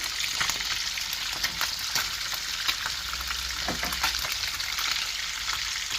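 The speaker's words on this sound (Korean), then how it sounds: "프라이팬에 멸치를 튀기고 있습니다." Steady, dense sizzling of egg-battered anchovies frying in hot oil in a pan, close and continuous, with occasional faint clinks of stirring.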